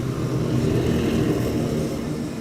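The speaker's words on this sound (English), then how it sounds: "Tractor on the cycling path, passing by just now." A tractor on a cycling path near Amsterdam Schiphol Airport rumbles steadily at mid distance, a low droning vehicle passing with no voices over it.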